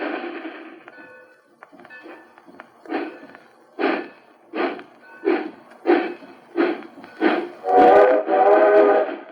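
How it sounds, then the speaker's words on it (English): Lionel model train rolling along the rails, a run of evenly spaced rhythmic chugging bursts that grows louder and ends in a sustained whistle-like tone. "Look at her streak along the rails. It's a Lionel."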